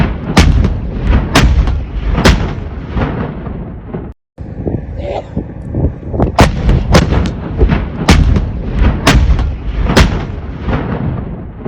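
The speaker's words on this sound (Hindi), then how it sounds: "पाकिस्तान भी अपनी आर्टिलरी से अफगानिस्तान की तरफ फायरिंग कर रहा है।" Pakistani artillery fires toward Afghanistan, heard as loud, heavy booms that repeat at irregular intervals, roughly a dozen in all. A brief dropout breaks the sequence partway through, and no voices are heard.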